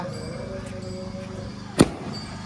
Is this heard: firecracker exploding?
yes